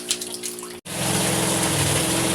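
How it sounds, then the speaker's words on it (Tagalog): Fresh water gushes loudly and steadily into a tank of African catfish after a brief pause, a continuous close-up rushing pour. "Kakarga na ako ng panibagong tubig."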